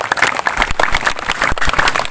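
Warm, sustained applause from a crowd at an Isra Mi'raj religious gathering in Sumur Batu, broadband clapping filling the whole moment steadily without a break.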